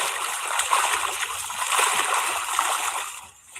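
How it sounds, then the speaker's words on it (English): Water splashing and gurgling as floodwater moves inside a flooded house next to an attached garage, a steady broadband wash of sloshing that runs continuously before fading near the end. "Why is there water in my house?"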